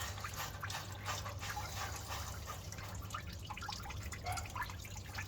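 Coolant drains from the thermostat housing of a Nissan Patrol with a ZD30 diesel engine, a quiet steady trickle with scattered drips, heard alone at close range.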